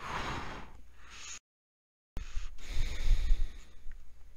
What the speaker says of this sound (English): that's probably some really ridiculously heavy breathing